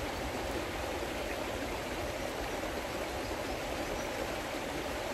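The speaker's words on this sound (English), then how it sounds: "Just paying attention to the sound of the river and its quality." River water flowing steadily, a continuous broadband rush with no breaks, moderately quiet and heard alone without voices.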